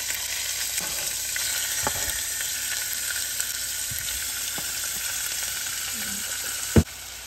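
Pork sautéed in olive oil sizzles loudly and steadily in a hot pan, a dense continuous crackle with faint stirring scrapes and a sharp clink near the end.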